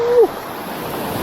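Rough sea surf washing at a Jamaican fishing spot, a steady broadband rush that is loud and close, with a brief tonal squeak at the start.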